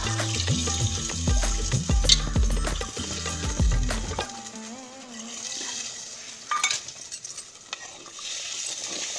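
Hot water is poured into mutton cooking in a pot, with splashing, stirring and sizzling noises close by. Rhythmic knocking runs through the first half, then gives way to softer bubbling and clatter.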